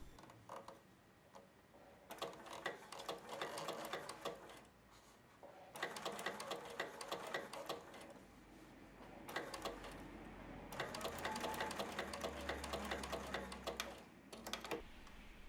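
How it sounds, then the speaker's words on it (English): A sewing machine with a twin needle stitches elastic into lycra swimwear, running in several steady bursts of rapid mechanical whirring separated by short pauses. "using the twin needle, sew as before."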